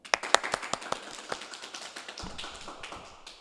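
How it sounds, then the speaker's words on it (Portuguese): Scattered hand claps for Bira do Tom on a variety show stage, a few sharp individual claps at first that thin out and fade, close and moderately loud with no talking. "uma salva de palmas para o nosso Bira do"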